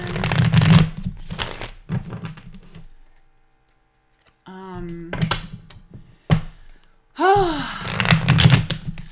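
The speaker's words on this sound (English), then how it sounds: "Just shuffling the cards" Tarot cards being shuffled during a live astrology reading, soft papery riffles and taps between stretches of someone talking, with a short quiet pause in the middle.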